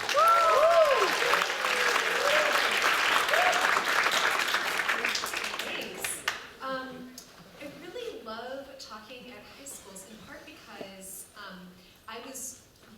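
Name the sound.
audience applause welcoming speaker Rebecca Mackay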